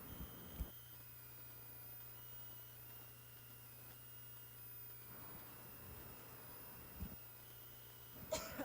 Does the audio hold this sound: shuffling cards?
no